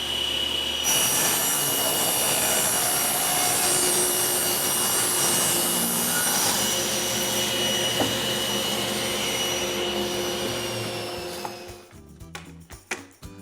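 A table saw rips a straight edge along a workpiece for a luthier's woodworking shop, a loud continuous roaring whine that holds steady for about eleven seconds before spinning down, with scattered clunks at the end.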